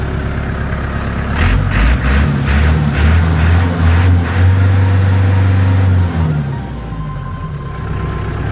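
An Iseki NT554 54-horsepower diesel tractor engine runs steadily with a low, throbbing rumble, rising briefly as if revved, then settling back to an idle.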